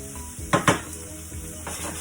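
Vegetables for a vegan vegetable scramble sizzle in a frying pan, a soft steady crackle broken by two louder clatters of a utensil against the pan near the middle, with no talking.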